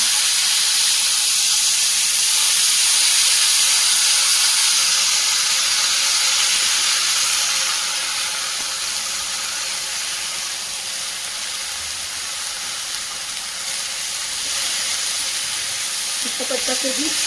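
Washed cabbage tipped into hot oil tempering seasoned with turmeric sizzles and steams with a steady, close, broadband hiss that eases a little partway through and then holds.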